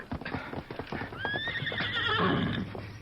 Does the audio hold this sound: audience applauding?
no